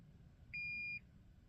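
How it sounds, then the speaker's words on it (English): A drone beeps from inside a carrying bag, giving one steady, sharp electronic tone lasting about half a second, clear against a quiet indoor background. "But my drone started beeping from inside the bag,"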